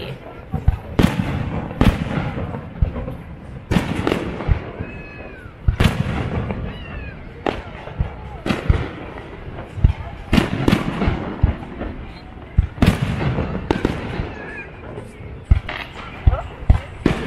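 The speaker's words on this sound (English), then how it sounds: "The fireworks just started." Friday-night fireworks over a Hawaii beach, with repeated sharp booming bursts at irregular intervals, some close together, over a busy crowd murmur and occasional voices.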